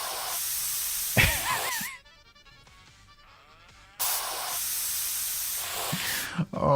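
Aerosol paint spraying in short hissing bursts during a low-budget repair, two loud sprays with a quiet pause between them, and a voice exclaiming briefly over the hiss.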